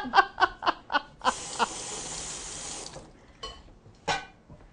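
Tap water runs briefly into a sink while a lemon zester is rinsed, a few seconds of steady splashing preceded and followed by short bursts of laughter.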